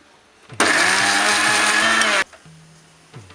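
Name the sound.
mixer grinder grinding coconut with a little water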